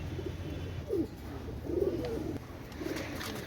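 Saharanpuri and Indian Kalanka pigeons coo softly in low, rolling bursts over a steady background hum, a few separate calls heard nearby with no one talking.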